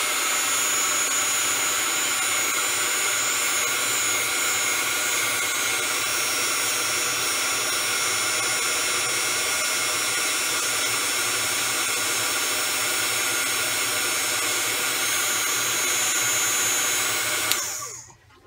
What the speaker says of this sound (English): I am going to start to heat this up with my heat gun and watch